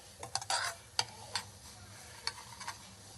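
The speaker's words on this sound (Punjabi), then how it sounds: "ਖਾਸ ਖਸਖਸ ਤੇ ਇਹਨੂੰ ਆਪਾਂ ਘੱਟ ਭੁੰਨਣਾ" Poppy seeds (khaskhas) lightly dry-roasting in a pan, heard as soft stirring scrapes and a few sharp ticks and clicks over a faint sizzle, close and quiet with no voices.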